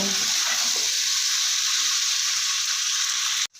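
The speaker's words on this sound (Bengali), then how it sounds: "রুটিগুলো ওরা সুন্দর করে এভাবে ভেজে নেব" Dense, bright sizzling of rotis frying in a hot pan, steady and close, cutting off abruptly at the end.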